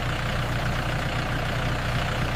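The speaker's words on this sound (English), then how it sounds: "The tractor navigates the steep terrain, bringing the young trees to their permanent home." A tractor engine rumbles steadily while hauling trailers of young saplings up steep hillside terrain, a constant low, close drone without pauses or voices.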